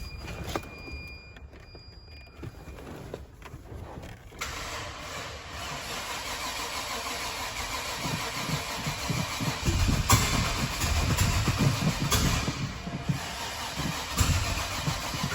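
Car engine boosted by a large jump pack, cranking briefly, then catching and settling into a rough, rising idle with some revving, close by and with no voices.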